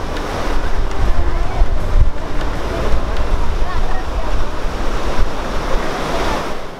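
Ocean waves washing onto a shore in India, a loud continuous rush of surf with swelling surges and blustery wind noise on the microphone throughout.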